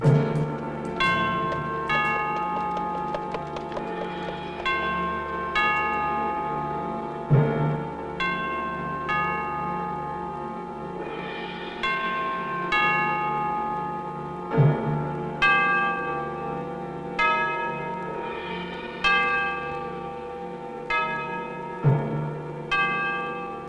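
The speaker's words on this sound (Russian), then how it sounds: "Колокол." A large church bell tolls slowly in a Dublin street setting, each loud ringing strike followed by a long humming decay, repeating at regular intervals of several seconds with no talk.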